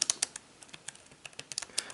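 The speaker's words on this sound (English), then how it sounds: "There's going to be a little bit of learning curve as far as typing in this keyboard" Typing on a Fintie iPad Mini keyboard case, a quick run of light, close plastic key clicks in an uneven rhythm with no talking.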